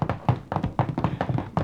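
Someone knocks on a door in a classic old-time radio detective drama, a quick run of about eight firm, evenly spaced raps. Close and clear, with no voices over it.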